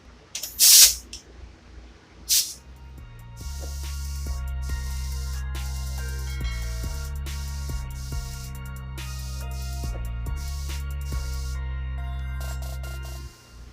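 An Iwata SuperNova spray gun lays down a first tack coat, giving a steady loud airy hiss with brief pauses between passes, after a couple of short sharp bursts at the start.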